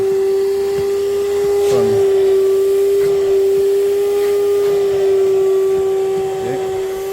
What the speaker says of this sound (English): go ahead and use a vacuum and clean underneath the seats